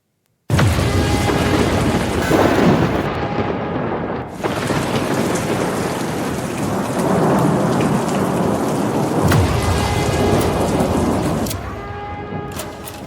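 Heavy monsoon rain pours down with rolling thunder, a loud dense roar that swells and dips across the whole stretch, with deep rumbles underneath and no voices.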